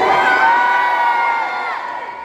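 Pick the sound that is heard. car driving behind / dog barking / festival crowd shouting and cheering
festival crowd shouting and cheering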